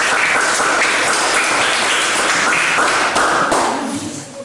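A classroom audience applauds a student group coming forward to present, steady dense clapping filling the room for about four seconds before fading.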